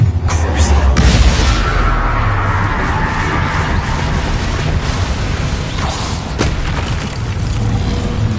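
The Incendio fire spell cast in a Harry Potter video game: a booming whoosh bursts out near the start, followed by a sustained roaring rumble with crackling, close and loud.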